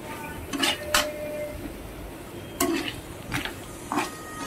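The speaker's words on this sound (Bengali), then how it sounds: "ভালো করে মশলাটা নেড়ে চেড়ে নিচ্ছি।" Spices for a crab curry with Kashmiri chilli being stirred in a pan, heard as a few sparse metal scrapes and clinks of a spoon against the pan with quiet gaps between them and a faint background hum.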